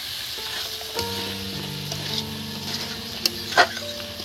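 Potatoes stir-frying with goat fat in a wok for ghugni, a steady close sizzle with scraping stir strokes and a couple of sharper utensil clicks near the end.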